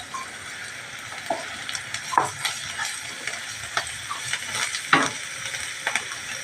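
Masala for vegetable cutlets sautéing in oil in a pan, a low steady sizzle with scattered clicks and scrapes of a spoon stirring through it.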